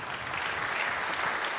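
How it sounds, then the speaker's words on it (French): Steady applause from an audience at a sports evening honouring athletes, including a young karate competitor, fills the space evenly for a moment with no voices above it. "On peut l'applaudir."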